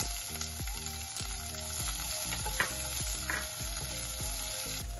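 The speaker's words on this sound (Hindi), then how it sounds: "अब थोड़ी सी मिर्ची डाल देंगे एंड फिर हल्का सा प्याज और टमाटर इसमें सॉटे कर लेंगे" Chillies, onion and tomato sautéing in a pan for bread upma, a continuous close sizzle with a rhythmic series of spatula scrapes over a steady background hum, no talk.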